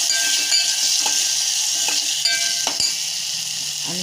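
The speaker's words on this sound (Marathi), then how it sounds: "जरासं परतून घेऊया." Steady loud sizzle of spices sautéing in oil for Navratri fasting misal, with red chilli powder in the pan, broken by soft scrapes and light clinks of a spoon stirring throughout.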